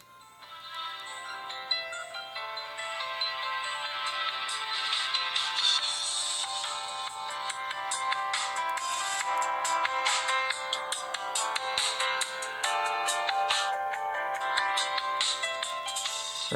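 A budget phone's small built-in speaker plays back music from an online video at high volume, a steady, bright and somewhat tinny stream that continues throughout without voices.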